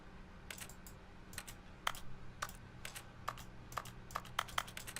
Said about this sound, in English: I click and it makes keyboard noises?